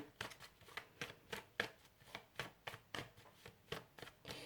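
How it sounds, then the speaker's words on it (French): Tarot cards are shuffled by hand in a quiet room, a series of soft, crisp riffling bursts repeating at a steady, roughly half-second pace, close and gentle with no voices. "Donc, je mélange bien."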